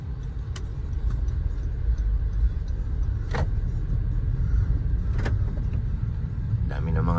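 A car being driven on an overcast morning, heard from inside as a steady low engine and road rumble with a few faint clicks and ticks, no talking.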